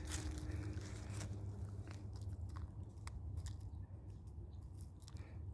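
Chickens pecking at and eating crushed eggshells outdoors, a run of quick, sharp, crunchy clicks and taps scattered irregularly over a low steady background, fairly faint and close by.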